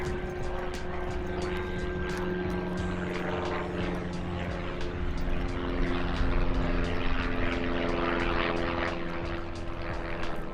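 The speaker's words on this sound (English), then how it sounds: "That's the plane." A propeller airplane near Van Nuys Airport drones overhead, a loud, steady engine hum that holds throughout with no talking.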